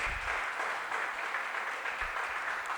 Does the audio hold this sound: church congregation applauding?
yes